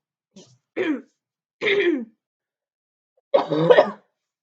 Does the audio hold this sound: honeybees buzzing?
no